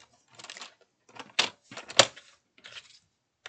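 A paper trimmer's blade slides along a cutting board and slices through paper in short, dry scraping and snapping bursts with sharp clicks, close and isolated.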